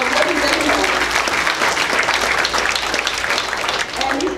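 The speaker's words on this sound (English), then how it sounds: "we should give them an applause" Sustained audience applause at a Labor Day labor council gathering, a dense, even roar of many hands with faint crowd voices mixed in.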